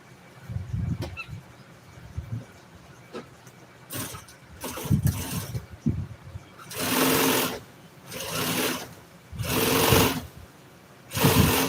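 An industrial sewing machine stitches auto interior upholstery in a trim shop, heard as four loud, close bursts of rapid stitching separated by pauses, after quieter handling noise and faint low rumbling.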